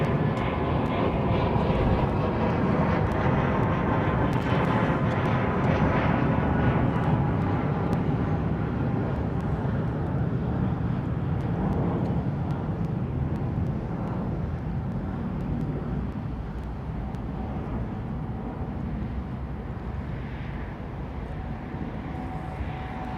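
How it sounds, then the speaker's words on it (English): An Airbus A330neo airliner at London Heathrow Airport gives a sustained, loud jet engine roar that fills the whole stretch and eases slightly toward the end, a broad rumble with no talking. "A330neo."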